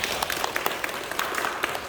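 Audience applause at a church seminar in Korea, a short burst of scattered individual hand claps from a modest group, crisp and uneven, lasting under two seconds.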